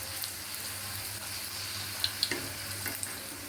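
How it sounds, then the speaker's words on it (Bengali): Luchi puffing in hot white oil give a soft continuous sizzle with a few faint crackling pops, close and steady, without speech. "পুরো সাদা তেলে এরকমভাবে ভেজে নেব, যেন লুচিগুলো ফোলে"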